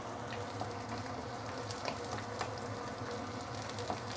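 Garlic and dried spices frying in a pan, a faint steady sizzle with small crackles and occasional soft scrapes of stirring, quiet and close.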